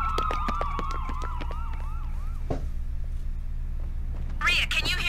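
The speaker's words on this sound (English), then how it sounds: "What the... Ambulances. Tons of them. There must be something going on." Wailing ambulance sirens in a video game, several overlapping sweeps in the first half, fading and returning with a sharp rising wail near the end over a steady low hum.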